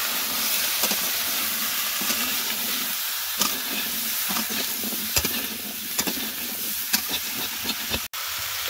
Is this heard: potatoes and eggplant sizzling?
yes